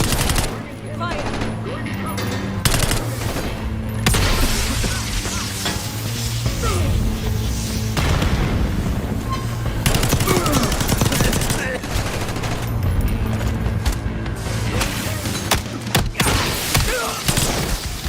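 Heavy gunfire in the Call of Duty Black Ops 6 campaign. Rapid automatic bursts and single shots repeat loudly and almost without a break for the whole stretch, mixed with impacts, crashes and brief shouted voices.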